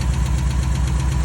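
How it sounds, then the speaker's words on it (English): A car engine idles on full choke close by, a steady low rumble with a slight rhythmic knock and shake running through it, with no voices. "I got it on full choke right now, so sitting here and idle, but it's idling much nicer than it was"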